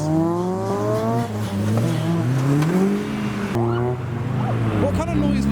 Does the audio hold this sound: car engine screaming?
yes